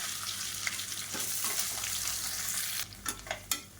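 Chopped onion with curry leaves and spices frying in a pressure cooker for chicken biryani, a steady close sizzle with a few scraping stirs near the end.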